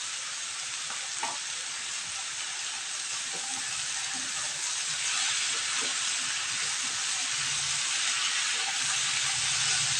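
Ridge gourd with chilli, cumin and poppy seed paste sautés in a pan. A steady, dense hiss and sizzle carries on close and unbroken, with faint stirring knocks under it and no voices.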